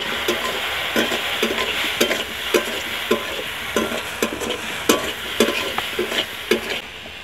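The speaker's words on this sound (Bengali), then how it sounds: "লঙ্কা গুঁড়ো দিয়ে এইভাবে একটু নেড়ে নিলে মাছটা কত সুন্দর লালও হয়ে যাবে" Small tangra fish frying in oil with chili powder, stirred in a pan: continuous close sizzle broken by regular scraping, knocking strokes of the spatula, roughly one or two per second, with no talking.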